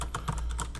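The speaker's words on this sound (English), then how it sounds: "This is a DAS keyboard with cherry red switches." Fast, steady typing on a DAS mechanical keyboard fitted with linear Cherry Red switches, a dense run of close clacks with no voices.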